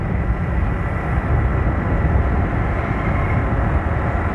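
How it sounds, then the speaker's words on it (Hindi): A Yamaha R15 V2 motorcycle engine braking on a city road, a steady loud broadband roar of engine and wind rumble held throughout with no clear gear changes. "इंजन ब्रेकिंग करके रोकना पड़ रहा है पता है गाड़ी को"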